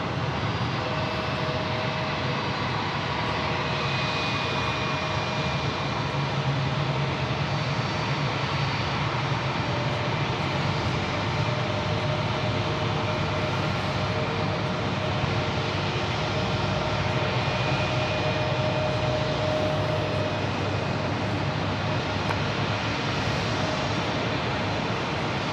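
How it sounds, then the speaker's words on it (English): A JetBlue 'JetBlue for Good' A320 airliner taxis toward gate 4 at Terminal 5, JFK, its jet engines giving off a continuous, loud, steady roar that holds for the whole stretch with no voices. "Another JetBlue special livery, the JetBlue for Good A320, now pulling into gate 4 at Terminal 5."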